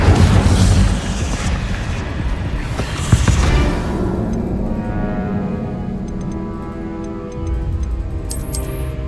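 An Incendio fire spell is cast in the Hogwarts Legacy video game, giving a loud whooshing burst at the start and a sharp hit a few seconds later. Steady game music and ticking effects continue underneath.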